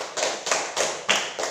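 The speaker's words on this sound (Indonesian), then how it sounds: "Oke, tepuk tangan untuk kelompok 1." Classroom applause for a student group comes as a handful of sharp, evenly spaced claps, close and fairly loud in a small room, with no voices over them.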